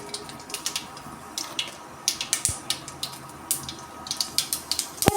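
Mustard seeds crackle and pop in hot oil while fish curry is being made, a steady run of sharp, scattered little snaps with a bigger crack near the end.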